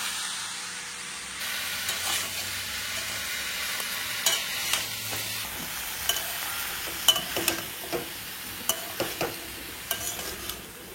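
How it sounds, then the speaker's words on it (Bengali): Jackfruit being stirred and sautéed in a pan, a continuous sizzle broken by repeated scraping and knocking strokes of a spoon, close and with no talk. "কাঁঠালকে এখন খুব সুন্দর করে কষাবো।"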